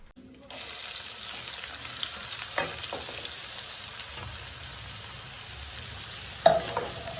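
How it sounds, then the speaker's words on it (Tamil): Onions sautéing in hot oil with mustard seeds, pepper and fenugreek for a South Indian fish gravy, a steady close sizzle that begins abruptly, with a few stirring clinks and scrapes. "பொரிச்ச வாட்டி நம்ம வெங்காயத்தை போட்டு வதக்கலாம்"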